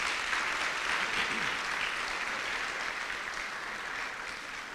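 Steady, dense applause from a large audience at a college employee awards dinner, a continuous wash of clapping that holds at an even level and only eases slightly near the end, with no talking over it.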